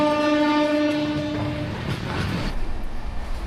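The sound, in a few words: Amrit Bharat Express train departing Dankuni station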